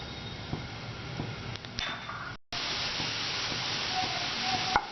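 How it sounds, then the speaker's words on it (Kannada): Half a chopped onion goes into about a tablespoon of hot oil in a pan for potato saagu, with a soft hiss that breaks off briefly and then returns as a louder, steady sizzle. "ಅರ್ಧ ಈರುಳ್ಳಿ ಹಚ್ಕೊಂಡಿದ್ದೀನಲ್ಲ ಅದು ಹಾಕ್ಕೊತಾ ಇದ್ದೀನಿ."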